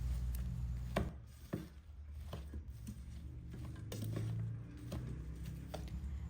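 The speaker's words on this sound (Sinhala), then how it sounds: "දැන් මේකට තෙල් ටිකක් එකතු කරලා මේ සේරම ටික මේ විදිහට හොඳට කලවම් කරනවා" Chopped leeks being mixed with pepper powder and oil make irregular soft clacks and wet scraping taps, a few sharper knocks early on, close and moderately quiet with no speech.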